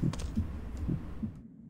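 A game's heartbeat effect pulses as paired low thumps, about two beats in under two seconds. It plays close and fairly soft over a faint hum, then fades.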